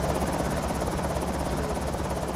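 A helicopter in the zombie survival game Project Zomboid, a loud, steady rotor thrum with fast rhythmic chopping that fills the whole moment without a break.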